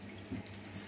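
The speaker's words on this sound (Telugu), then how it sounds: "ఇంకా పోస్తారు నీళ్ళు" Water pours into a bowl of thick squeezed tamarind pulp, a brief close dribble and splash heard alone in a quiet kitchen.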